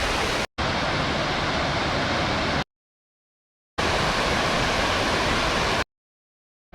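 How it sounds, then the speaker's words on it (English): Burney Falls, a 129-foot waterfall, roars as a steady broadband rush of falling water in two long stretches separated by abrupt silent gaps, with no talking. "Here we are at Burney Falls, 129 feet of natural beauty."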